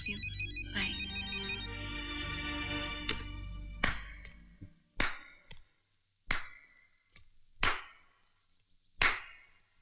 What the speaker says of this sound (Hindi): मेरा मोबाइल बज रहा है